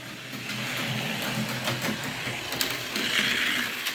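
Four Autoworld 4-gear slot car chassis lapping a track, with a continuous whirring motor buzz and clattering rumble that rises and falls as the small cars pass, fairly quiet and close.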